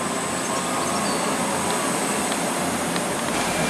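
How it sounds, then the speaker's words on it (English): A class 319 electric multiple unit from Liverpool Lime Street arriving at Warrington Bank Quay station, a steady broadband rumble and hiss of the train rolling in close by with faint high squeals, no talk. "we have a class 319 terminating here from Liverpool Lime Street"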